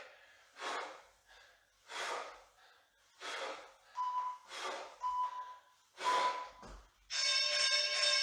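Heavy, rhythmic breathing during a Tabata workout, about seven loud forceful exhales spaced roughly a second apart, followed by a shrill electronic beeping tone.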